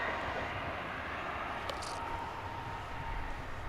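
A jet airliner roars steadily on its approach at DFW Airport, a continuous broad rumble that holds loud and even throughout with no voices over it.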